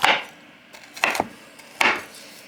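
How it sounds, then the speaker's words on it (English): A knife dices peanut butter cups on a wooden board, giving three crisp chopping strokes, each a short crunchy thud, close and clear with no voices. "I'm just going to dice up our peanut butter cups."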